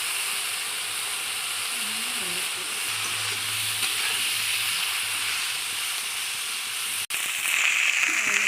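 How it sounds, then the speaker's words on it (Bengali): Eggplant and flat beans fry in hot oil in a wok, giving a steady, dense sizzling hiss that runs throughout with one brief dropout near the end; no one speaks. "বেগুন আর ছিমটাকে ভেজে নিচ্ছে"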